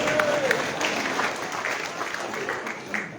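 An audience at a Christchurch public meeting claps together in a steady, dense round of applause, fairly loud and close, with a brief voice or whistle-like tone at the start.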